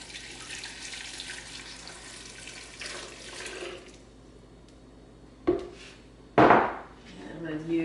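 Hot water pours steadily for a few seconds, then stops, followed by two sharp knocks and a brief clatter nearby.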